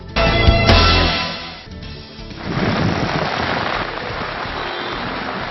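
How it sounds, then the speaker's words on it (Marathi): Heavy continuous rain pouring down in Titwala with water flooding the road, a dense hiss that starts with a loud burst, dips briefly, then settles into a steady, fairly loud downpour. "आज दिवसभर सतत धार कोसळणाऱ्या पावसामुळे सर्वच ठिकाणी पाणी भरल्याचे चित्र दिसून येत आहे"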